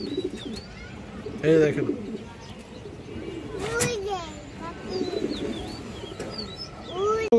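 Pigeons for sale, including a female Bezi Blood pigeon, coo in soft, repeated throaty phrases, with some higher chirps mixed in. Someone speaks briefly and children can be heard in the background.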